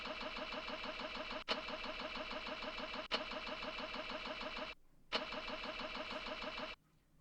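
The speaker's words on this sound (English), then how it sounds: "I try it multiple times, but the truck motor doesn't turn over." Truck engine turned over by its starter in repeated, even cranking bursts that never catch, broken by short clicks and gaps and a final cutoff into near silence; no voices.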